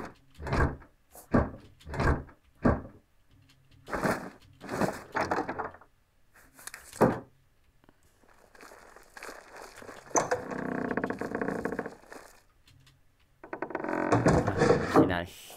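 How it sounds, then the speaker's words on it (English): Old wooden house doors in the video game Oblivion creak and thunk open one after another. Sharp rhythmic knocks come first, then longer groaning squeaks, all loud and close with no talk. "Hear me opening these very squeaky doors in this house?"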